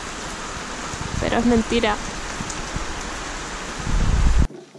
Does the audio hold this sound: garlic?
no